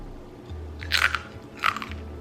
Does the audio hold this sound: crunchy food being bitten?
yes